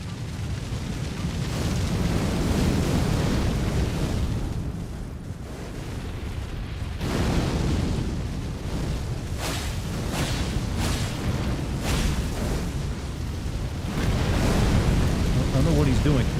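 Fire tornadoes conjured by an enemy in the Elden Ring DLC video game roar with a dense, rumbling whoosh that swells and sustains throughout, with bursts of crackling noise, while a person talks over it.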